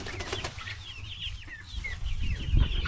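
Chickens in a coop cluck and chatter nearby, with rapid overlapping calls above a rumble of movement and low background noise. Thumps grow louder toward the end.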